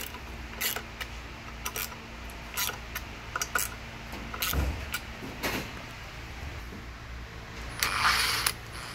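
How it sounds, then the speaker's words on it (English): A half-inch ratchet works the cover bolts on a supercharger from a Sea-Doo RXP 900, giving scattered clicking and creaking bursts at close range with mechanical clatter, and no talking. "just stick a 1/2 inch ratchet right there"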